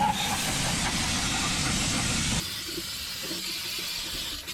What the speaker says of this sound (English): Brake clean and wipe on everything.